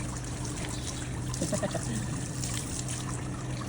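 Water sprays and trickles steadily while a bike is rinsed, a soft continuous hiss at low-moderate level with a faint steady hum underneath.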